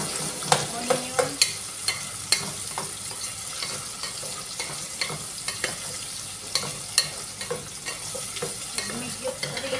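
Onions sizzle and crackle steadily in a hot pan while sautéing for a bok choy and boneless chicken dish, with frequent sharp scrapes and clicks of stirring throughout.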